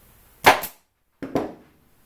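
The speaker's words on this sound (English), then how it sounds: "your staple gun." A staple gun fires into canvas stretched over a wooden frame, two sharp close snaps about a second apart, each with a quick double crack and nothing between them.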